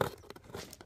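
A short, quiet rip of tape pulled from a cardboard box, with a faint crinkling scrape, close by.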